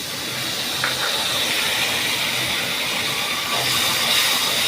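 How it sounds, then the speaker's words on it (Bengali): Water poured onto dry chili powder, cumin and turmeric in hot oil, producing a continuous loud broadband sizzle and hiss that persists throughout without speech. "একটুখানি শুকনো মশলার ওপরে জল দিলাম"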